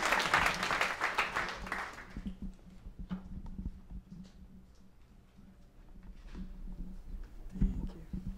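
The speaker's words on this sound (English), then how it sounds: "Let's give Jake a round of applause" An audience at a startup showcase claps briefly, dense applause for about two seconds that then thins into scattered claps and quiet room noise.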